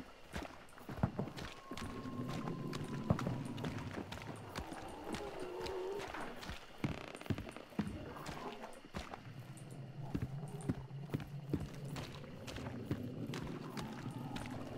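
Horses clip-clopping in the video game Hunt: Showdown, a faint, steady run of hoof beats sitting low under ambient game noise and occasional soft voices.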